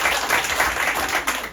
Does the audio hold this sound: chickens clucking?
no